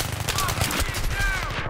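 Heavy, continuous automatic gunfire from many weapons during a video game match, loud and dense throughout a short burst, with overlapping shots and a faint voice beneath.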